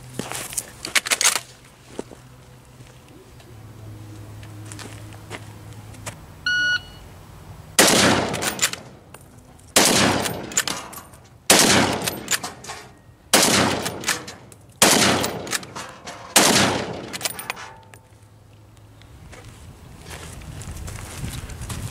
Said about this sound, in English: Even someone with a combat carbine against six armed adversaries at 25 yards, unless you can shoot like Jerry Michalek, you're probably not going to